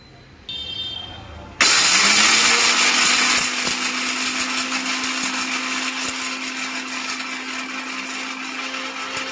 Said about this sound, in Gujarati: વીસ ગ્રામ મરીયાને આપણે મિક્સરમાં દરીને એકદમ પાવડર કરી નાખવાનો છે